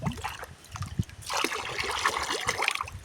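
Fertiliser being mixed into water for rose plants: close sloshing, trickling and small splashes of liquid over a few seconds, with a denser burst of stirring midway.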